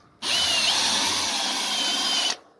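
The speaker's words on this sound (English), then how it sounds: "I'll just take the drill with the brush and I'll just brush." A battery drill spinning a brush to clear loose silicone around the rear window glass of a Vauxhall Opel Astra gives one steady, close, high-pitched whir for about two seconds and then stops, with no talk.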